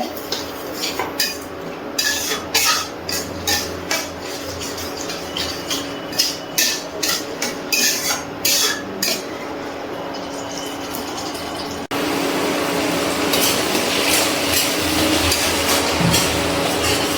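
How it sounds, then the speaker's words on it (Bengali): Tomato paste being stirred and fried in oil in a pan for a Bengali potol korma, with scraping and clinking of a spoon against the metal pan in quick bursts, then a steady sizzling hiss. "টমেটো পেস্টটাও আমি খুব ভালো করে কষিয়ে নেব।"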